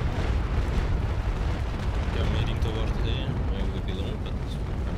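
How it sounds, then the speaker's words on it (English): Naval cannon broadsides in the Naval Action game during a Spain versus France port battle, a continuous dense roar of booms and blasts with sea wash, loud and unbroken throughout. "I keep shooting Hans here"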